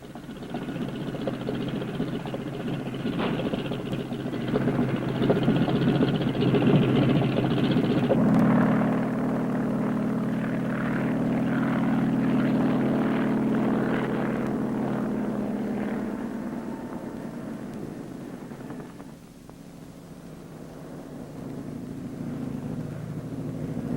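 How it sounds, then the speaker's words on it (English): Marine helicopter in flight, a sustained droning rotor and engine hum that swells and shifts pitch midway, then eases before building again, heard alone without voices. "a new kind of airplane that can move straight up and straight down"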